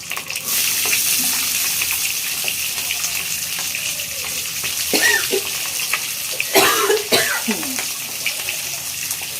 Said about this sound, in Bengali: পরিমাণ মতো পেঁয়াজ দিয়ে দেবো।